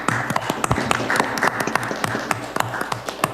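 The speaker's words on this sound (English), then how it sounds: "Can we unmute so we can hear the claps?" Meeting participants at a St. Catharines city council meeting clap over an open call, a scattered patter of hands in irregular rapid taps, moderately close and thin as if through unmuted microphones.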